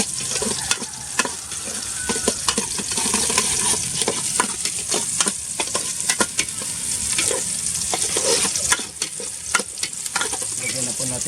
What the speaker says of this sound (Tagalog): Isahin lang natin ito ng mabuti